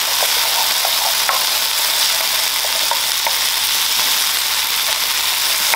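Vegetables cooking for rasta pasta with lobster: loud, continuous close-up sizzling in a hot pan, with faint stirring clicks under the steady hiss.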